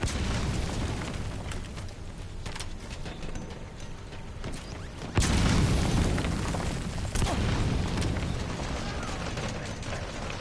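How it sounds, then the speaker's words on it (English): Grenade explosions in the online shooter Metal Gear Online, a heavy boom landing midway through a rumbling, noisy battle with a second blast shortly after, loud and close with no talk. "Oh, fucking grenades. So many grenades."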